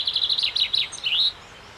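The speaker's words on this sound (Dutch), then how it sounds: "Ik heb ook de vink voor jou meegenomen." A chaffinch song played back: a quick run of bright, high chirping notes ending in a short flourish, clear and close, followed by quiet.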